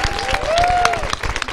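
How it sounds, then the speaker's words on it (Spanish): Studio audience applause on a television talk show about violence against women. It is a brief, lively burst of clapping, with crowd voices and a rising whistle-like tone inside it. "Aplauso para Arlen, por favor."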